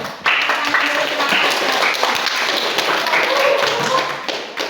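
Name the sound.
classroom applause for a group's presentation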